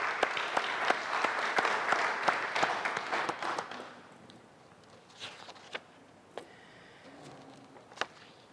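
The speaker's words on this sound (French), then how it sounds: "Applaudissons le Seigneur." Church congregation applauding together, a dense burst of clapping that fades after about four seconds, leaving a few scattered claps and small sounds in a quieter hall.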